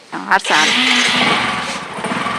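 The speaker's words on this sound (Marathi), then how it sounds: "करा गाडी चालू" A vehicle engine starts up nearby, with a quick crank and catch that bursts into a loud, steady running rumble and clatter that continues to the end. A voice sounds briefly at the start.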